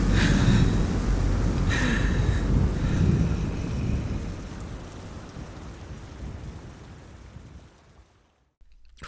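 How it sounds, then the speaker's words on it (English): Thunder peals in a wild storm, loud rolling rumbles heavy in the low end with steady rain over them, swelling at the start and slowly fading out to near silence at the close. "I know that I heard peals of thunder"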